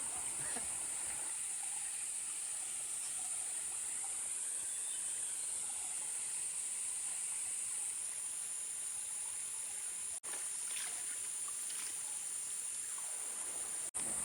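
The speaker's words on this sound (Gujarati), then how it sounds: "અહીંયા ઝરણાનું પાણી આવી રહ્યું છે." A forest stream in Gir jungle flows over rocks, giving a steady, broad rushing hiss that stays loud and continuous throughout, with no talk over it.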